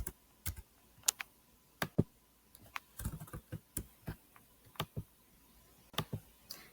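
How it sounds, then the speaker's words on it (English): A computer keyboard tapped quietly and close by, irregular single keystrokes and short clusters spread across a few seconds as a project name is typed. "You can type the project name and it should appear."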